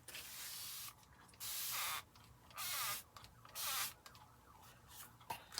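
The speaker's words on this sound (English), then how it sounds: "I'm going to spray it to see if I can bring some of it back up" A spray bottle hisses in three distinct bursts onto an acrylic painting, each about half a second to a second long, with quiet pauses between them; close and fairly soft.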